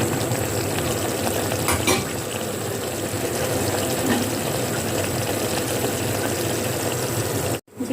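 Liver sautés in a pan, a loud continuous close sizzle with stirring scrapes and a couple of utensil knocks, cutting off abruptly near the end.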